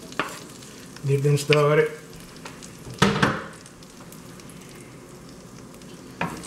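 Onions and shrimp fry in a pan, a soft continuous sizzle heard close up, interrupted by someone talking briefly and a few louder clatters from stirring.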